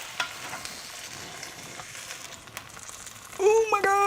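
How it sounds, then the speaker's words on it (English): Seared five-pound roast sizzling in a pan, a soft continuous crackle and hiss with a few sharper pops, fairly quiet throughout, then a voice speaks over it near the end. "It's still sizzling in the pan."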